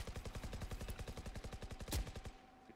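Rapid automatic gunfire from the video game Valorant, a steady burst of evenly spaced shots lasting over two seconds and ending in a louder shot, with no talking over it.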